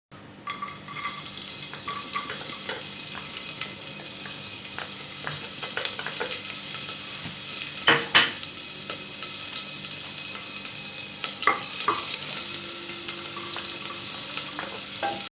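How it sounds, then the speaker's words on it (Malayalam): Chopped garlic and onion sautéing in hot oil in a pan for masala oats, a steady sizzle broken by stirring scrapes and occasional clinks of a utensil against the pan, with no talk. "എണ്ണ നല്ലതുപോലെ ചൂടായി വരുമ്പോൾ നമ്മൾക്ക് അതിലേക്ക് അരിഞ്ഞു വെച്ചിരിക്കുന്ന വെളുത്തുള്ളിയും ഉള്ളിയും കൂടെ ചേർത്ത്"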